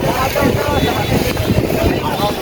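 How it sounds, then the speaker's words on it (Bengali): Engine of a seven-section wooden trawler carrying tourists and bikes across the Nikli haor toward Mithamoin, a steady low rumble under loud wind buffeting the microphone. "এই সাত খোলা ট্রলারটা আসলে নিলাম"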